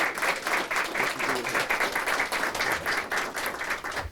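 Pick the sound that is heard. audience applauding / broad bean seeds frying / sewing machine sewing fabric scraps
audience applauding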